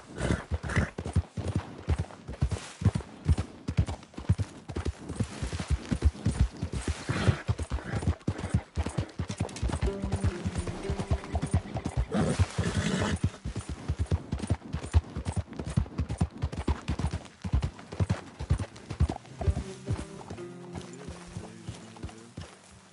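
Horse galloping in the video game Red Dead Redemption 2, a rapid, continuous drumming of hoofbeats up close with a steady rhythm that lasts throughout, occasional tonal game sounds layered on top, no speech.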